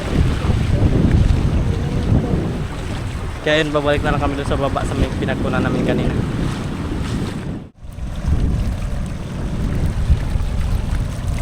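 Strong waves and heavy wind at sea from a small boat, a loud, continuous roar of wind buffeting the microphone and churning water, with someone speaking briefly partway through.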